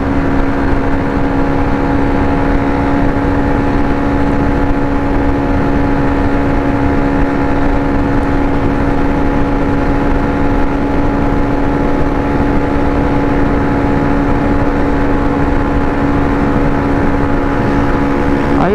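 A Honda Click scooter engine runs steadily and loud, a continuous motor drone with a fixed pitch, no gaps and no voices over it.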